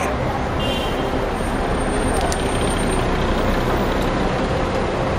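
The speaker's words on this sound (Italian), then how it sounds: "Questo mio autobus." A city bus arrives at a stop in Kuala Lumpur, its engine rumbling steadily amid roadway traffic noise, with a faint air-brake hiss near the middle.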